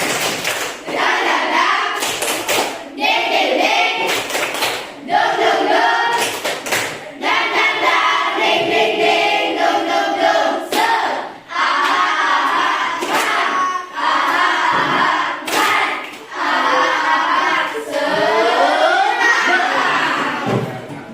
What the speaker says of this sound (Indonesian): Mari sama-sama kita tepuk semangat